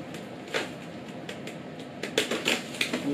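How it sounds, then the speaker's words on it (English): Tape peeled in short crackling pulls from the bottom of the plastic packaging bag around an ASUS ROG Strix GL12CP-NR060T gaming PC, close up over a steady background hiss, with no talk. "I think I'll just get rid of this tape here."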